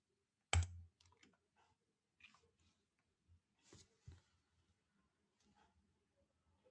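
A computer mouse clicks once, sharp and close, to start a smoke test in test automation software, followed by a few faint, scattered clicks and soft taps in a quiet room.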